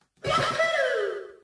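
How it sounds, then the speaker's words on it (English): Mario's "Yahoo" voice clip from a video game, pitch-tuned into a single sung, vowel-like cry that bends slightly downward and fades over about a second. "The tuned Mario sounds like this."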